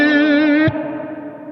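An electric guitar played through a headphone rig with reverb sustains a bright, wavering chord, then is cut off sharply as a reverb tail rings on and slowly fades, loud and close with no talking.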